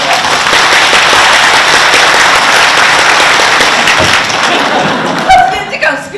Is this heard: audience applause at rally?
yes